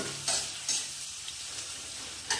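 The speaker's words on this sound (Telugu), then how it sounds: "Onion, capsicum, బెర్నీస్. కొద్దిగా ఇది డీప్ ఫ్రై అయినా చూడండి" Onion and capsicum frying in a pan while being stirred, a steady soft sizzle with a few sharp scraping strokes of the spatula standing out at intervals, close and alone.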